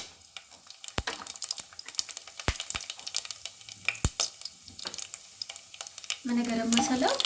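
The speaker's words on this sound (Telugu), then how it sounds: "ఒక సెకండ్ వేగనిద్దాము." Garam masala sizzles in hot oil and ghee in a pan, with a crackling fry broken by several sharp spoon clinks against the pan. A voice talks over it near the end.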